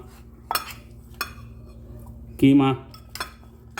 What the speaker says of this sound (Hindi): फिलिंग के लिए एक प्याली लें, उसके अंदर सामान चीज़ें डालते जाएं